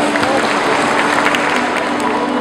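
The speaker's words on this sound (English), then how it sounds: "Let's give her a warm round of applause." Warm round of applause from a morning gathering's audience, dense steady clapping held at an even level throughout, close and fairly loud with no break.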